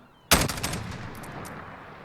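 A single sharp, loud MK 20 SSR rifle shot rings out in Call of Duty Modern Warfare, followed by a decaying echo tail that fades over the next second and a half.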